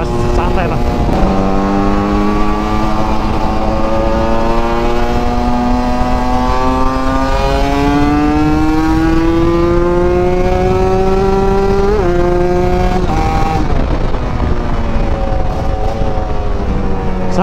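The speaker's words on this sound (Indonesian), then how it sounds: "Sambil narik-narik gas sedikit." Kawasaki Ninja two-stroke motorcycle engine revving steadily while being ridden, a loud, continuous buzzing drone that rises and falls in pitch with the throttle, with wind noise throughout.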